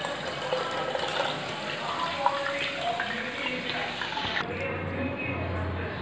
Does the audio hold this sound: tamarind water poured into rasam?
yes